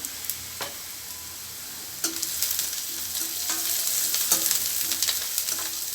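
Crushed fennel seeds sizzling in hot oil in a pan for village-style shark puttu, a steady close frying crackle with occasional sharp pops and stirring scrapes, growing busier after a quiet start, no talking.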